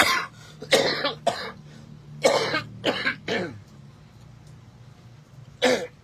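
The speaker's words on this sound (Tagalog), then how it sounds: "Hirap ng ubo." Several harsh coughs in irregular bursts, some close together, with quiet pauses between and a final cough after a longer gap.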